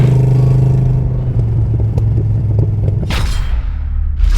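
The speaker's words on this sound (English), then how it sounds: "The burbles and the pops from the side pipes are outstanding." 1930 Ford Model A roadster with side pipes, a loud, close, low burbling rumble with uneven pops and crackles, easing slightly then breaking into short bursts of hiss near the end.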